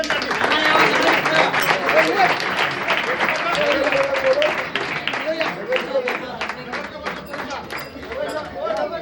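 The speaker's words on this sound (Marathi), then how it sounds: "जोरदार टाळ्या होऊ देत अध्यक्षांसाठी" A crowd gives loud, sustained applause for the chairman at a Shimga folk performance in Kankavli, with dense clapping and some chatter running through, easing slightly toward the end.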